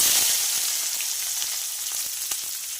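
Onion frying in hot oil with cumin, bay leaf and dried chilli, a loud continuous sizzling hiss with a few sharp crackles and spatters, close up with no talking.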